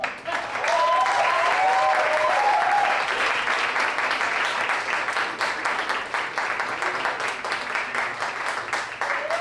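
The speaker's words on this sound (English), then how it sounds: "You clap till I get here, and then you shut up." Sustained audience applause greets a speaker arriving on stage, loud, even clapping that holds steady across the whole stretch with a few voices briefly audible early on.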